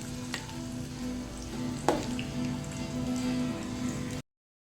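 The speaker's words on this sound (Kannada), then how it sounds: "ಇನ್ನು ಇದಕ್ಕೆ ಒಂದು ಒಗ್ಗರಣೆಯನ್ನು ಇಡ್ತೇನೆ." Hot oil crackles and sizzles steadily as mustard seeds, garlic and asafoetida go into a tempering, with a sharp pop near the middle before the sound cuts to silence.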